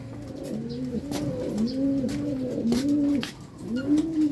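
A racing pigeon coos repeatedly in a soft, rolling rhythm, close by, over a faint patter of rain in the background.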